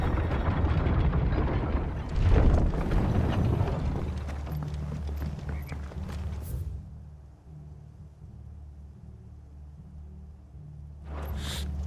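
In Final Fantasy XVI, galloping horse hooves pound under a rumbling, busy mix for several seconds, then fade to a low sustained drone with a brief rustle at the end.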